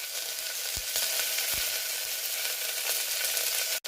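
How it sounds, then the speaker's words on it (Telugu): Okra pieces fry in oil in a kadai with mustard seeds, cumin, turmeric and curry leaves, making a constant hiss of sizzling broken by a couple of dull stirring knocks. "అల్లం వెల్లుల్లి పేస్ట్ అన్నిటిని బాగా కలుపుకొని ఒక 2-3 నిమిషాలు ఫ్రై చేసుకోవాలి"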